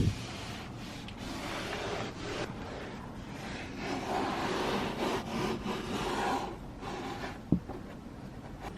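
Cloth rubbing down the interior of a car during cleaning, a steady close scrubbing and wiping texture running continuously with brief pauses and a small knock near the end.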